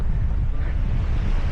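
Wind buffets the microphone during an outdoor marathon-training long run, a steady, loud, low roar with no pause and no talking.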